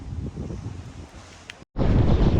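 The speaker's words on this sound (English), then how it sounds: "we got good wind today" Strong gusty wind of about 20 to 24 knots buffeting the microphone while parawing on open water, a loud continuous roar with a short dropout before it surges back.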